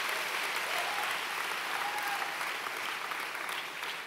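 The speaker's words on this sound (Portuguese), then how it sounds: "Pode aplaudir o nome do Senhor, velho" A church congregation applauding during a sermon at a 2019 gathering, a broad, even wash of many hands clapping that holds steady at a moderate level without speech over it.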